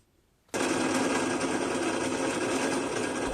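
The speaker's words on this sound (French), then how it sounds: "Je perce les trous pour les supports de disques." A drill starts abruptly and then runs as a constant, close, whining drone while boring holes in metal for disc supports on a homemade lateral-raise training machine.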